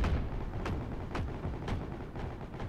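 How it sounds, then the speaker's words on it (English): Grenade explosions in the WWII shooter Heroes and Generals, several muffled blasts spaced about half a second apart over a rumbling battlefield background, moderately distant. "there's a guy throwing grenades from the right side again"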